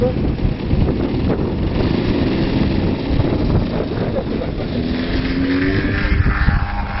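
A radio-controlled Extra 260 model airplane takes off, its buzzing engine rising in pitch as it climbs, heard against steady wind noise on the microphone.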